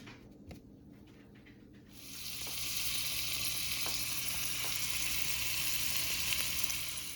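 A ham and cheese sandwich hits a hot pan and breaks into a steady, close sizzle that holds for several seconds after a few quiet handling sounds.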